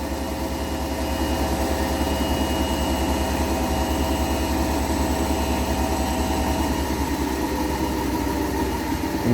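An Indesit Innex washer dryer runs at full spin speed, a steady, low mechanical hum with a continuous rumble and faint vibration that holds evenly throughout and stays fairly quiet.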